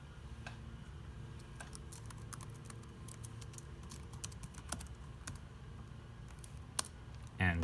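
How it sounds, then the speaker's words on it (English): Steady, rapid typing on a ThinkPad T60 laptop keyboard while user information is entered, a dense run of close, light key clicks with a few sharper taps and no talking. "then you can type in your user information."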